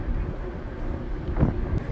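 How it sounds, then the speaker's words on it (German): Ferry engines running aboard a ship departing Rosslare onto a stormy Atlantic: a steady low rumble mixed with gusty wind buffeting the microphone, with one louder swell partway through. "Motoren laufen."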